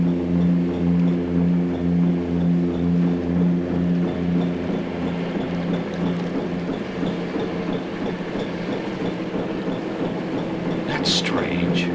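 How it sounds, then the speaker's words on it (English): Heavy ship engines in a horror sci-fi film set in the Bermuda Triangle, a loud, low, steady rumbling drone with a throbbing pulse that runs throughout, joined near the end by a brief sharper sound. "I'm going to see why they accelerated the engines"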